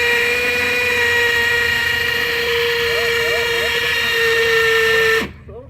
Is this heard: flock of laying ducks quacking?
no